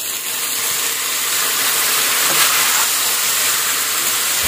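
Water poured into a hot pan of paneer coated in spices, giving a steady loud sizzling hiss that fills the whole clip without letting up.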